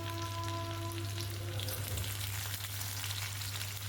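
Onion fries in hot oil for soybean chilli, a continuous moderate sizzle with light crackle over a steady low hum and no voices.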